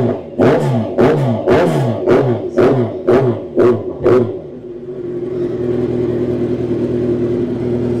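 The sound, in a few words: motorbike engine revving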